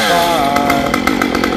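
A chainsaw runs steadily at high revs, loud and close, its engine droning without pause while it cuts trees.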